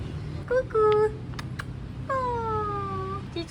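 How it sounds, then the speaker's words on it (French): A cat found near a beach restaurant meows twice, a short mew and then a longer drawn-out meow, close and clear over low background murmur. "Regardez, j'ai trouvé un chat."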